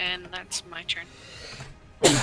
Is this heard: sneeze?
yes